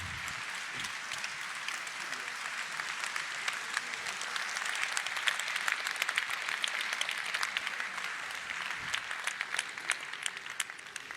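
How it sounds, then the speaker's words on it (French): An audience at a residents' meeting applauding the municipal youth council, a sustained even patter of many hands clapping from start to finish, moderately distant. "Donc je pense qu'on peut aussi les applaudir et les remercier."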